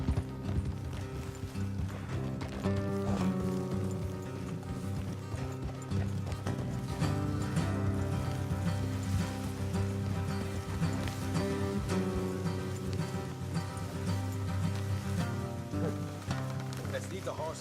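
Horses gallop along a road in a video game, their steady clip-clop of hooves running throughout under a dense musical score and occasional voices.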